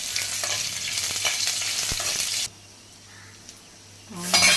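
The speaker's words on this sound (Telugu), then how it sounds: "2 ఎండుమిరపకాయలు, పచ్చిమిరపకాయ, కొద్దిగా జీడిపప్పు వేసి కలుపుకోవాలి." Dried red chillies, a green chilli and cashews fry and sizzle in hot oil while being stirred with scraping strokes. The frying drops to a quiet hiss midway, and then a louder clatter comes near the end.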